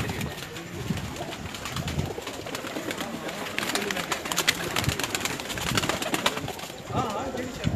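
Pigeons coo and murmur throughout a loft, a dense steady chorus of soft throaty calls close by with occasional wing flutters, and a voice faintly under the birds.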